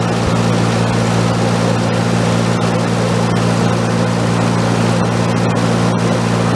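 A small generator engine runs loudly and steadily after its speed screw is turned up, with a constant droning hum and faint clicks on top.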